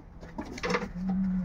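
Pigeons in a loft give a few low, soft coos, ending in a steadier sustained coo, close and moderately loud over faint background rustling.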